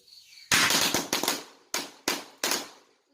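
Firecrackers set off to chase away the spirit on the Lao-style Songkran festival day, several sharp loud bangs in an irregular burst, each decaying quickly, with no talk.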